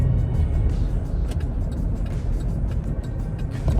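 A car driving during a ride-along, steady low engine and road rumble from inside the cabin, continuous and fairly loud throughout.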